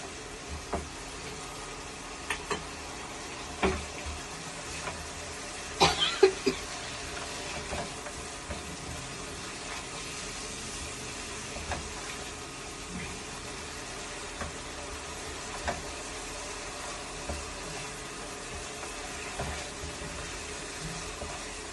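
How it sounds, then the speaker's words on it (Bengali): Ground black mustard paste masala being fried and stirred in a pan, giving a soft continuous sizzle with occasional spatula scrapes and small clicks, fairly faint and steady throughout. "এবার এই মশলাটাকে ভালো করে কষিয়ে নেব।"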